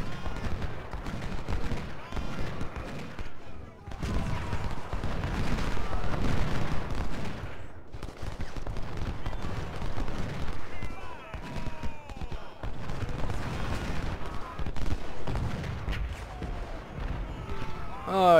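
Rifle fire aimed at cavalry in Ultimate General: Civil War, a Civil War battle game, makes a steady, crowded clatter of shots and battle noise across the whole stretch, with voice-like sounds mixed into the din.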